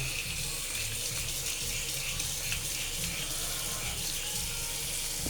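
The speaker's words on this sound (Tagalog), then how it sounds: "Lagyan po natin siya ng tubig." Tap water pours steadily into a container for a cooking step, a loud, continuous close gush with no pauses and no talking.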